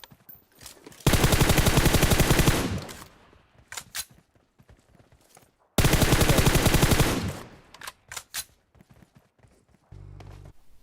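Bursts of automatic gunfire in a battle royale video game, two long rapid volleys a few seconds apart, each followed by scattered single shots, loud and close with no talk.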